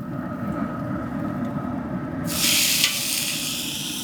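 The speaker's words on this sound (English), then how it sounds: "We're gonna take them immediately off the grill onto that sidekick and sear them, and then let them rest." Smoked tri-tip seared on a Camp Chef Sidekick griddle after coming off the grill, giving a steady broad hiss that bursts into a louder sizzle partway through, close by, with no speech.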